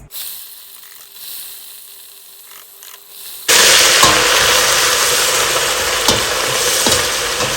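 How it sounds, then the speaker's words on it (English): Beef dropped into hot oil in a big pot for deep frying erupts into a loud, steady sizzle partway through, after a quieter stretch of background noise, with a few stirring clicks over the frying. "So she's going to fry this beef meat for at least 2 to 3 minutes."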